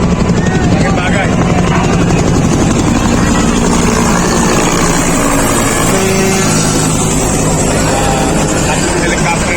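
Helicopter flying overhead during a large fire in Tondo, Manila, a loud steady rotor roar filling the whole stretch with heavy rumble, voices faintly mixed in beneath.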